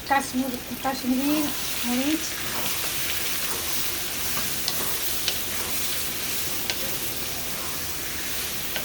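Kashmiri red chili and panch phoron spices sizzling in hot oil for homemade pickle, a steady, hissing fry throughout, with someone briefly talking at the start.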